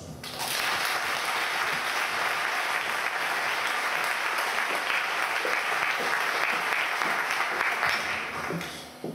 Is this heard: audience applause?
yes